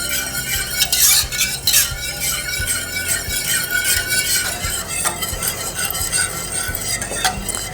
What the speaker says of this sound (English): We will mix until this whole mixture almost comes to a boil.